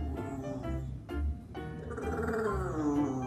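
A dog gives several short, throaty barks and growly yelps in quick succession, close by, with brief pauses between them.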